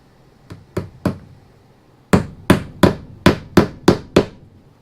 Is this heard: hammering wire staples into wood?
yes